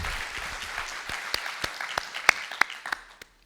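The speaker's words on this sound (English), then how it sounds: "give yourself a big round of applause for yourselves for coming here" An audience at a premiere event gives scattered, uneven applause of separate sharp claps that thin out and stop near the end, heard without talk.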